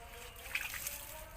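Water is poured over a freshly planted stem cutting, giving a soft brief splash and trickle close by against a faint background hum.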